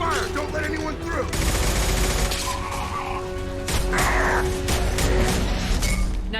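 Sustained automatic gunfire rattles through a Mass Effect 2 battle, dense bursts with crashing impacts and shattering debris, loud and continuous throughout.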